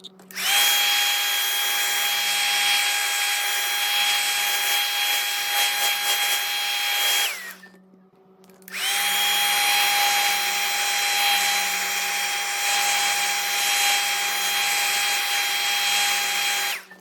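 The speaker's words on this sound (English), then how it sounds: "Dry that initial layer with the hairdryer." A hair dryer blows steadily on freshly applied leather color on a couch repair area, a loud continuous whine with a high tone, cutting off briefly around eight seconds before starting again.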